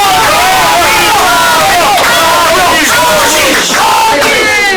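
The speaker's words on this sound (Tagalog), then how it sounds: "Narinig niyo naman yung crowd" Loud, dense crowd at an underground breakdance battle, shouting and cheering continuously for about five seconds with overlapping voices and whoops, no pauses.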